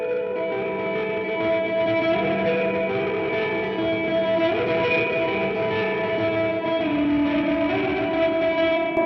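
Guitar through an Anasounds Elements spring reverb pedal with the mix at 100%, producing a wash of sustained, drenched tones with a drifting ambient shimmer, steady and moderately loud with no speech.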